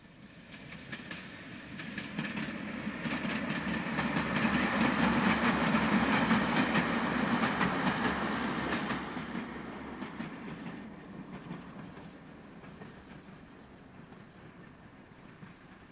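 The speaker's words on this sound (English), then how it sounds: "The multiple unit climbs away from the station and passes out of use weed-covered sidings" A diesel multiple unit train climbs away from a station past disused weed-covered sidings and goods sheds, its engine drone and clattering wheels swelling to a steady peak and then fading as it pulls into the distance.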